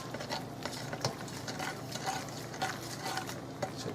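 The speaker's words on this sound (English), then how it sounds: "So just mix that" Buttered noodles being stirred in a pot with melting butter and salt, producing soft continuous wet stirring and light scraping sounds in a repeating rhythm, with no talking.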